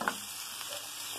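Longaniza sausage frying in a pan gives a soft, steady sizzle with a few faint crackles, quiet and alone with no talking.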